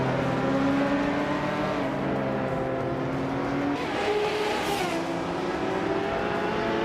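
A 2005 Radical SR3 and other race cars run in a video game race, with engines whining steadily up and down through gear changes and a brief tire-squeal burst, close and continuous with no talking.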